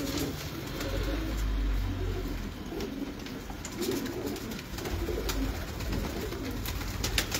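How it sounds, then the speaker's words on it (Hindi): High flyer pigeons in Lahore coo in a dense, continuous low chorus close at hand, with scattered sharp clicks and rustling throughout and no one talking. "ये हाई फ्लायर कबूतर है"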